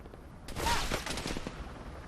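Gunfire in the military shooter Arma 3 during a King of the Hill match, a burst of several fairly close shots around the middle of a short stretch followed by a few fainter reports, with no talk.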